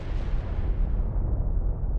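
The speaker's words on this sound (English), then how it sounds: "The explosion of Krakatoa in 1883 was the most devastating volcanic eruption in modern recorded history." The Krakatoa volcanic eruption of 1883 is rendered as a sound effect: a deep, sustained roaring rumble that stays loud and heavy throughout, with the high end slowly fading.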